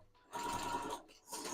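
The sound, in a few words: sewing machine stitching along fabric edge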